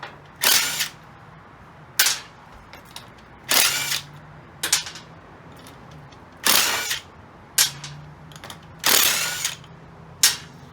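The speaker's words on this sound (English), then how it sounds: "Impact gun." A pneumatic impact gun works on a mobility scooter wheel: about eight short, loud, sharp rattling bursts, evenly spaced, with quiet gaps between them.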